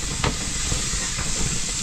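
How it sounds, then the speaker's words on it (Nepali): Meat frying in mustard oil gives a steady, close, broadband hiss and sizzle that holds evenly from start to finish, with no voices. "हामी चाहिँ तोरीको तेलसँग मासु भुट्न आँटिरहेछौँ"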